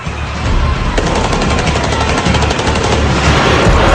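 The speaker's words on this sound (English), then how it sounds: "Shots are still being fired to the rear of the bank." Sustained automatic gunfire from AK-47 rifles in a bank shootout in California, a loud dense continuous rattle of rapid shots with a few sharper cracks, close and overwhelming, with no voices.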